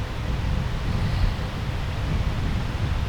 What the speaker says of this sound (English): Hopefully the wind doesn't get into the microphone too much.